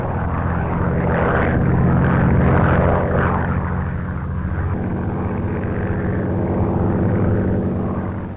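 Propeller-driven interceptor planes fly out to meet oncoming bombers, a loud, continuous droning engine roar that swells and then holds steady, with no voices.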